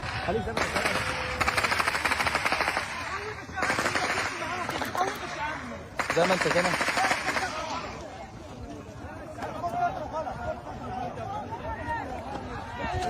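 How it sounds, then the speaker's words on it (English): Rapid bursts of automatic gunfire crackle continuously in Gaza, echoing over a noisy crowd of hungry people with shouting and chatter. "crowds of hungry people running under rapid gunfire"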